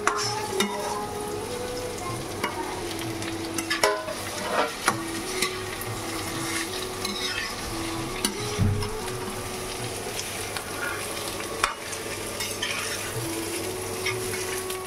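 Chicken and capsicum fry in a pan with a steady, close sizzle, broken by spatula scrapes and stirring knocks against the pan, no voices.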